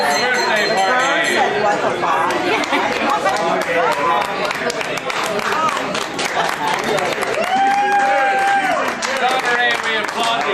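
Clapping at a crowded birthday party mixes with loud overlapping chatter and laughter, a continuous noisy room sound with voices throughout.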